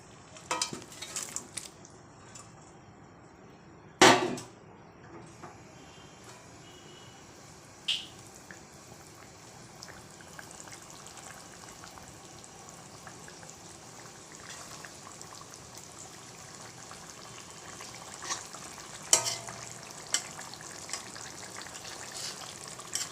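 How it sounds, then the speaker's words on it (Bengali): Fish curry bubbles quietly on the stove as fried fish pieces are added, with a low simmering hiss, a few sharp clunks of utensils against the pot and light stirring sounds. "মাছের ঝোলটা ভালো করে টক বক করে ফুটছে এবার আমি ভেজে রাখা মাছগুলোকে"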